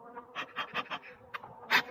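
Agitated honey bees buzz around a hive in an egg-laying colony: several short buzzing bursts pass close by in uneven pulses, rising and fading between quieter gaps, with no speech.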